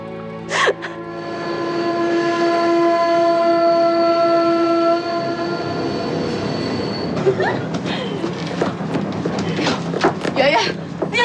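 A moving passenger train sounds a long, loud horn blast, then its wheels clatter and squeal in sharp, irregular bursts, with people talking over the rail noise.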